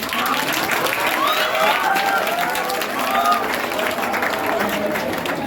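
Students and guests clapping and cheering at a school award function celebrating toppers, a dense, continuous roar of applause with whoops and voices mixed in throughout.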